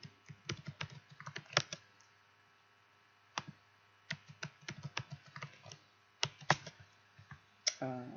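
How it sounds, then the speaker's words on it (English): Fingers type on a computer keyboard while logging into an account, quick bursts of close, soft key clicks separated by short pauses. "So Reggie's going to log in"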